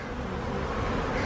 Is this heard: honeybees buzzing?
yes